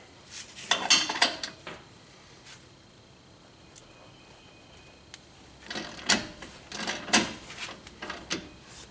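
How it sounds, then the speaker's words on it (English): Hand tools work loose the lower shock bolt on a Jeep JK during a leveling kit install, with two bursts of close metallic clanks and rattles separated by a quiet pause. "Next I'm going to do the lower shock bolt."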